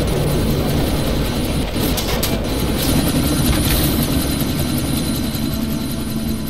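Helicopter in the video game Deus Ex: Mankind Divided, a loud, continuous rotor chop and engine roar that holds steady throughout without letting up.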